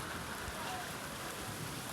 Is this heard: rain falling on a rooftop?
yes